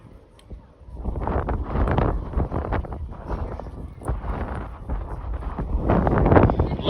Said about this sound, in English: Got a pretty good wind up there today.